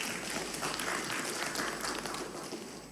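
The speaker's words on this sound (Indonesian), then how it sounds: "Mari kita beri tepuk tangan dulu buat BPH." An audience claps for the BPH committee at a church gathering, a dense, steady wash of applause that holds evenly for about three seconds without any speech over it.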